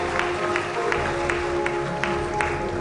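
Sustained audience applause fills the hall at the 2019 Miss Marshall Islands pageant, a dense, even wash of clapping with a few sharper claps standing out and a faint steady tone beneath.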